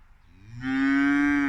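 A calf moos loudly and close by, crying for its mother: one long, sustained, rising bellow that swells after a quieter start and holds steady to the end.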